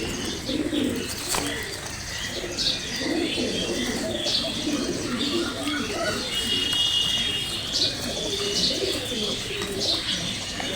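Pigeons coo softly while feeding, with a few faint chirps scattered through, heard close beneath a steady murmur of people talking nearby.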